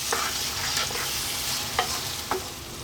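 Minchet, an Ethiopian stew, fries steadily in a pot with a continuous close sizzle and a few soft stirring scrapes, no voices.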